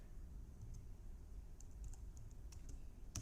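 Faint typing on a computer keyboard while HTML code is entered, scattered soft key clicks over a low background rumble, no voices.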